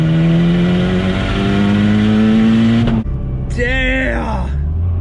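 A tuned Mazdaspeed6 running port injection roars loudly at wide open throttle, its engine pitch climbing for about three seconds. An abrupt cut follows, then a short whine and a revving burst.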